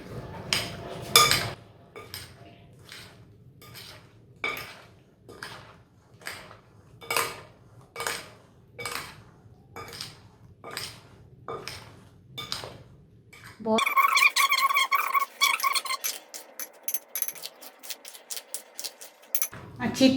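A spoon knocks and scrapes against a bowl while creamy fruit chaat is mixed, producing a steady series of close clinks. Someone talks over the later part, then a brief, denser clatter follows.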